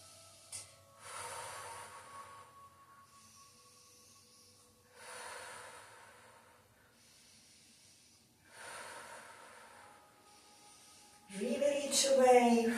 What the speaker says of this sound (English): Inhale through nose, exhale through pursed lips.